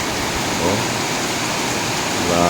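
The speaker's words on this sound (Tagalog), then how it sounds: "grabe lakas ng ulan" Heavy rain pours down in a dense, steady roar with no breaks, loud and close.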